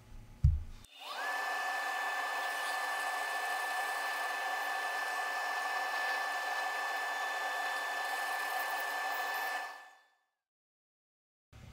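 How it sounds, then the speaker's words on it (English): A power drill with a 5/16 bit bores into amboyna burl wood, whirring at a steady high pitch for about nine seconds, close and loud, then stops abruptly. "we're using a 5/16 drill bit"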